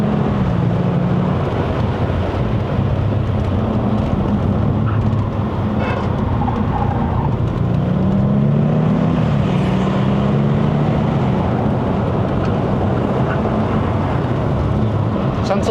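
A 2012 Audi S8 with a 4.0L TFSI bi-turbo V8 pulls uphill under part throttle on a mountain road, a loud steady engine drone rising and falling in pitch inside the cabin, with wind and road noise.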